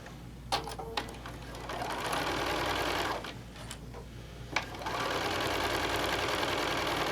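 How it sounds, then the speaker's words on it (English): A sewing machine runs a quarter-inch quilt seam in steady bursts: a dense mechanical whir with a few brief pauses and clicks between stretches of stitching, close and moderately loud. "we're going to sew our 1/4 inch seam"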